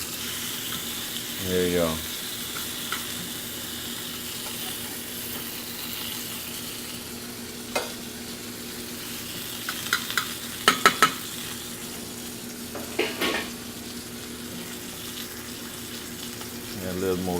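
Soft, steady sizzle of miso salmon frying lightly in oil in a pan, with occasional clinks of utensils and a brief spoken remark over the low hiss.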